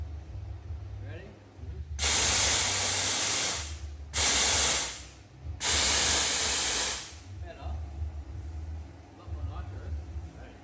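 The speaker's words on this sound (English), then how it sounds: "We were spraying through the plate." Nitrous oxide blasts through the plate on a junkyard Holden Monaro engine during fault-finding tests, three loud, sharp hissing sprays of about two seconds each, separated by short gaps, over a low background rumble.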